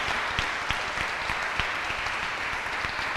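An audience at a conference talk applauding, a steady wash of many hands clapping with a few sharper individual claps standing out, continuous throughout and moderately distant.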